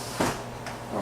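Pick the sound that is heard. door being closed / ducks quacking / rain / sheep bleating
door being closed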